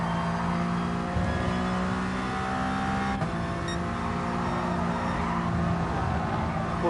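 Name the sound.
race car engine accelerating through third gear, from video game GT Sport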